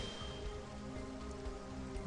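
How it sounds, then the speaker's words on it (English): Rain summoned by a spell in the PC game Divinity: Original Sin Enhanced Edition falls as a steady, even patter on surfaces, continuous and moderately soft throughout with no voices. "Need to get some rain going in here."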